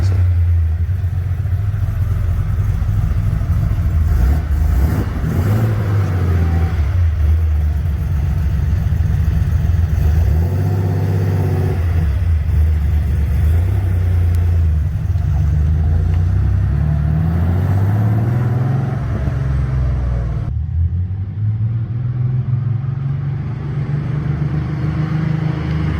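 An 1980s-era Porsche 911 Carrera Cabriolet engine runs steadily up close, a loud, even idle with several gentle rises and falls in revs, with no talking over it.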